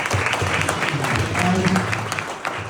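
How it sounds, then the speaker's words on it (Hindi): A congregation applauds at a church testimony gathering, steady crowd clapping throughout with faint voices and some low background hum underneath. "जोरदार ताली बजाइए"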